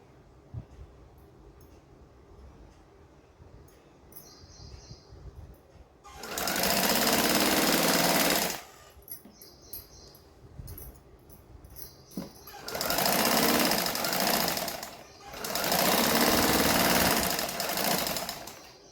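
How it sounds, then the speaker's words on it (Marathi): A sewing machine double-stitches the shoulder seam of a blouse, running in three loud rapid bursts of a few seconds each, separated by quieter pauses with small handling sounds. "आता आपण मागच्या पुढच्या भागाचे शोल्डर एकमेकांना जोडून घेऊ. इथे डबल शिलाई घ्यायची."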